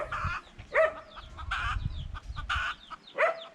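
Chickens cluck in a series of short, repeated calls, fairly close, over a low background rumble.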